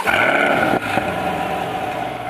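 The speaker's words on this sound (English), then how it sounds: "double tap the engine start stop feature and go ahead and fire it up" A 2020 Chevrolet Corvette Stingray 3LT with stock exhaust fires up, its engine holding a loud, steady rumbling drone with a brief dip partway through, heard alone and close.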